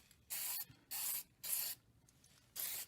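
Spray paint can firing test coats onto cardboard while blacking out behind the grille of a 1999–2004 Mustang Mach 1, four short hissing bursts close up with brief pauses between.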